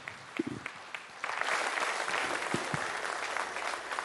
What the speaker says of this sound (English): I think Dr. Jaishankar deserves a much rounder applause.